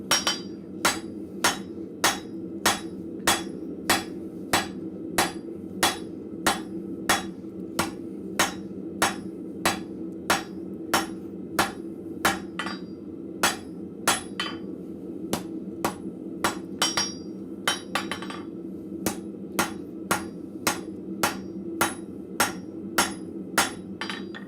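Blacksmith hammering on a pair of tongs at the forge, a steady run of sharp ringing metal strikes roughly every second, close and loud over a low workshop hum, with no talk.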